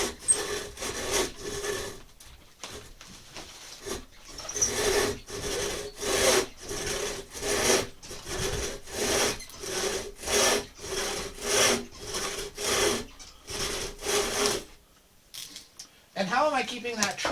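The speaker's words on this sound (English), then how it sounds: "I'm just going to come right back and do this with the miter box saw" Rhythmic back-and-forth strokes of a miter box saw cutting wood for a carved boat half hull model, steady and close, with brief pauses and a short burst of talk at the end.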